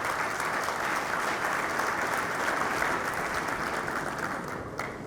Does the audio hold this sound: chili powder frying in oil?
no